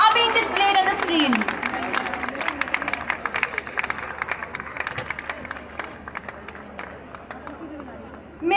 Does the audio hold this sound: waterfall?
no